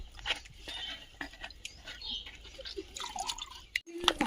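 Liquid panchakavya fertilizer is strained through a filter, giving scattered close drips and trickles with small clinks against a container and a low background hum.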